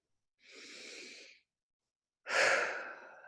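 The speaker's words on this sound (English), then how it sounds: "Nice, deep, letting go breath" Two slow, deep breaths, a soft inhale followed after a pause by a louder, airy exhale like a relaxed sigh, close and quiet.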